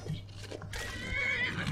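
A horse in the video game Skyrim gives a loud, drawn-out whinny that rises and wavers over about a second, following softer game sounds and a faint background hum.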